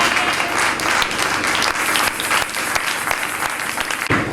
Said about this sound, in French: La parole de Dieu, on l'acclame très fort